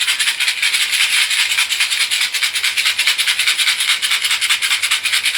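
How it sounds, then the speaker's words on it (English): A pill bottle is shaken continuously and rhythmically close up, the pills rattling in a fast, steady scratchy patter with no pauses or talk. "I will keep this pill bottle shaking for you"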